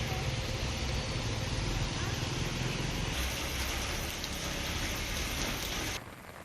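Heavy unseasonal rain pours steadily in a dense, continuous hiss in Ahmedabad, India, then drops off abruptly near the end.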